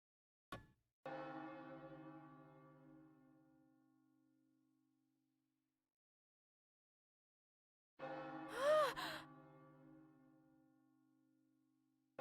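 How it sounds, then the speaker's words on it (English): A deep bell in Another Code: Recollection tolls twice, each strike ringing out and slowly fading into silence, the second toll overlapped by a brief sharp gasp or cry. "It's a bell."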